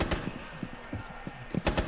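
Rapid bursts of gunfire from a shooter video game, a short run of sharp repeated shots in quick succession, fairly close and punchy, with faint voice or game chatter underneath.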